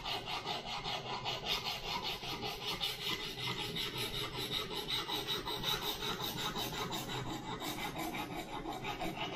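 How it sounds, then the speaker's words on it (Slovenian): A knife blade being sharpened on a whetstone at a steady angle, giving a continuous close rasping scrape in repeated strokes that carries on without pause and without any talk. "da pridete do občutka, koliko pritisniti ta brusilni kamen"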